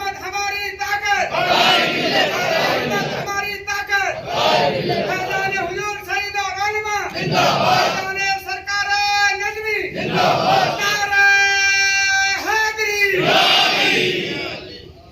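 A crowd at an Urs gathering at a Sufi dargah chants slogans in loud, rhythmic bursts of massed voices. The bursts repeat steadily and the chanting stays close and full throughout.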